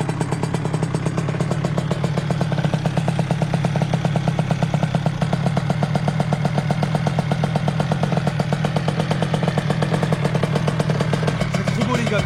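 A small two-stroke Derbi DRD moped engine with a 70cc kit runs steadily at a fast idle on its first start, its rapid even putter close and loud for the whole stretch, with a slight clatter.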